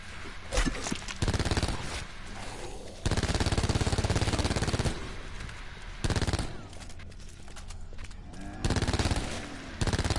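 The Spitfire submachine gun fires in Black Ops 4 Zombies, loud sustained automatic bursts in several long strings with short pauses between, close and dense, with a voice faintly underneath.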